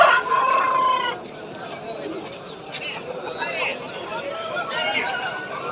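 At a busy Kunnathur village market, a rooster crows loudly and close at the start, followed by clucking fowl and steady chatter from people bargaining nearby.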